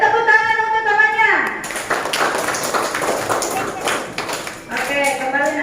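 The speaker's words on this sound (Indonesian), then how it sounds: "beri tepuk tangan untuk temannya" A classroom of pupils claps for a classmate, a dense patter of many small hands at close range, overlapping with a teacher's sustained voice at the start and end.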